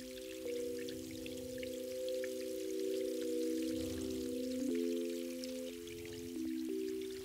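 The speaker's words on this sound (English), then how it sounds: "I now have a keyboard that I can play that has the sound of that water" A water field recording played on a sampler keyboard as sustained notes, shifting pitch several times over a soft, trickling, dripping texture.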